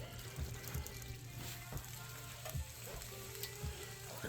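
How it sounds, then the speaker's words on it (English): Shrimp sizzle in hot olive oil in a pan, a constant crackling fry close up, broken by rhythmic clinks and scrapes of stirring, with no one talking. "we're going to throw our shrimp in."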